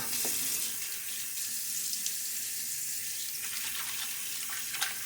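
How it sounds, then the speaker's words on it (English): A shaving brush is rinsed under a running tap, a steady close rush of water that carries on throughout with no talking. "All right, I'm going to rinse."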